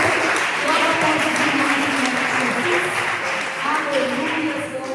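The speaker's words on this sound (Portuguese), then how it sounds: "Vamos aplaudir Jesus." A church congregation applauds, steady dense clapping that fills the space throughout, with a few voices calling out underneath.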